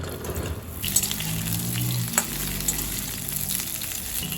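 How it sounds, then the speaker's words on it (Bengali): Pointed gourd pieces fry in two spoons of hot mustard oil for a vegetarian potato and pointed gourd curry, giving a steady, close sizzle that holds throughout with a few louder spits and no talking. "এবার পটলগুলো দিয়ে দিলাম। পটলগুলো আমি ভেজে নেব।"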